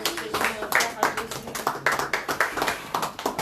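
A church congregation claps in fast, steady rhythm while acclaiming the name of Jesus, close and loud, with voices calling out over the clapping.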